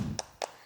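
Two sharp hand claps about a fifth of a second apart, close and fairly loud, from children at a combined Sunday school service at a GBI church, following a brief low murmur.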